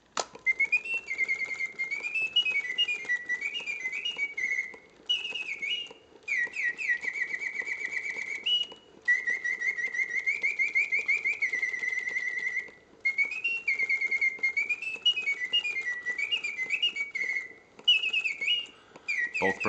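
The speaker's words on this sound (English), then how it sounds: "Both birds sing in full voice with all the proper notes." A Reuge double singing bird cage automaton in excellent condition plays warbling mechanical birdsong, with two birds trilling and chirping in long continuous phrases broken by brief pauses, loud and close with no talking.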